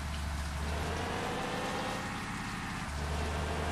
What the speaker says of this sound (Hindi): बहुत जोर से बारिश भी हो रही है